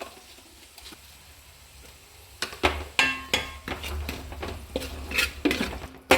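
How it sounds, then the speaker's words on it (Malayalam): Turmeric, chili powder, pickle powder and salt being mixed in a pan on low flame for a pickle, heard as a series of close, sharp spoon knocks and scrapes against the pan after a quiet start. "മഞ്ഞൾപ്പൊടി മുളക് പൊടി പിക്കിൾ പൗഡർ ഉപ്പ് എന്നിവ ചേർത്ത് നന്നായി മിക്സ് ചെയ്യാം"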